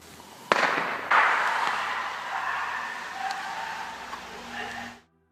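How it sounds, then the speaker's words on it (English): Two sharp distant bangs ring out over a steady outdoor rumble, followed by a long fading rolling echo, like gunshots carrying through open woods. "I think that was a gunshot."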